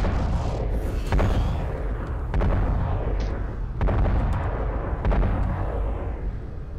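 Heavy mech weapons fire in the game MechWarrior Living Legends: several loud booming shots at irregular intervals over a dense, rumbling battle din, with no talk.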